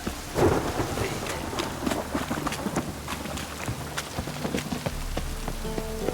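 Steady rain and rumbling thunder from a stormy scene in The Witcher 3: Wild Hunt, with a loud thunder crack near the start and continuous downpour throughout, no talking.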